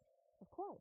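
Low, whale-like hoots of birds in the background of the Nancy Drew: Alibi in Ashes video game, a steady drone rising into a few swooping, bending calls, faint and brief, with a voice speaking briefly over them.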